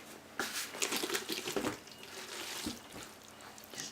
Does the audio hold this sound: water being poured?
yes